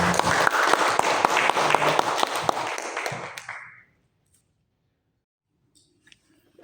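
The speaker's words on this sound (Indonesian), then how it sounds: "Mohon untuk memberikan aplaus kepada Bapak Siska Haryono" An audience at a seminar applauds after a presentation, a dense burst of clapping from many hands that fades out after a few seconds, leaving near silence with a few faint sounds.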